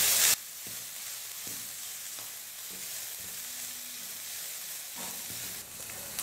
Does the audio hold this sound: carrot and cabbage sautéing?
yes